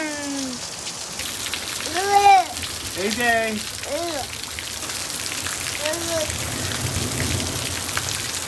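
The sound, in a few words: rain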